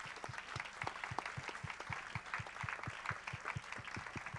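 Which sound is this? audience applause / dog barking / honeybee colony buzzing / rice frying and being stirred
audience applause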